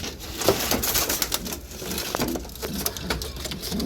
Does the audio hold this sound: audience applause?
no